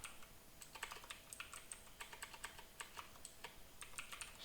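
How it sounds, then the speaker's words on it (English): Rapid, steady typing on a computer keyboard, with close, crisp keystrokes clattering in quick uneven bursts for several seconds and no voices. "And we can stop that by typing stop self."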